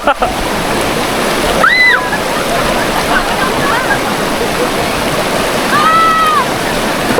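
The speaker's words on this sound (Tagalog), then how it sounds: "Sobrang lakas ng tubig." Strong river water rushes at a popular clear-water swimming spot, a loud, constant roar close by, with brief tonal voice sounds rising over it twice.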